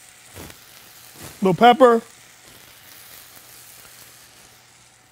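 Brown rice sautés in a pan for a healthy soul food dish, giving a soft, steady sizzle that runs the whole time under a brief spoken seasoning remark.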